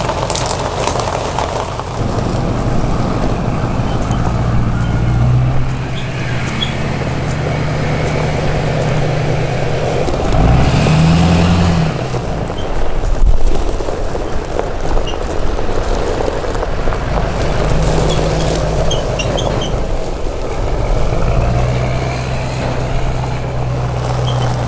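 A vehicle engine running after the ignition is switched on on a ranch, a steady low rumbling idle close by for a long stretch, with faint shifts in pitch and some background movement.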